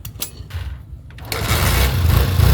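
A Honda TMX Alpha 125 motorcycle, just fitted with a new stator, kick-started on one kick: a brief kick rattle, a pause, then the small engine catching and idling loudly and steadily, close by.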